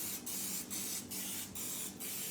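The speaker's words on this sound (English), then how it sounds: "So what I'm gonna do is spray my burger buns." Cooking spray hissing onto a pan for burger buns in a keto bread recipe, five quick close bursts in a steady rhythm, with no talk.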